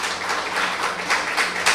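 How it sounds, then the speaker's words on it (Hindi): An audience applauding a poet at a shayari gathering, a dense steady clapping wash heard from a short distance, brief and moderately loud, with no voices over it. "ज़ोरदार तालियों के साथ।"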